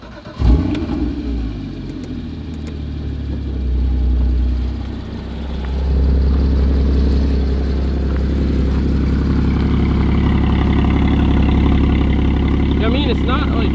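A Porsche GT4 engine cranks to life with a sharp burst, then settles into a loud, steady idle that swells slightly, with low rumble dominating while a voice talks over it.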